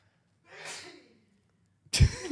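A single abrupt sneeze bursts out near the end, close and sharp, after a soft breathy inhale a moment earlier.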